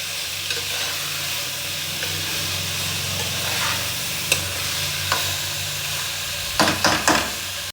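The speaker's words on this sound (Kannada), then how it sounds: "ಈಗ ನೋಡಿ ಎಣ್ಣೆಲಿ ಚೆನ್ನಾಗಿ ಫ್ರೈ ಆಗಿದೆ ಇದು." A steady, fairly loud sizzle of food frying in oil in a pan, continuous throughout, with a few spoon scrapes and taps toward the end.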